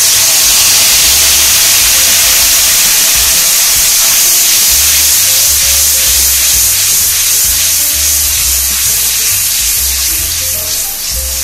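Tomato paste sizzles and hisses loudly in a hot pan with sugar and Kashmiri chili powder for a vegetarian shahi paneer, a dense, continuous frying crackle up close, with no talking.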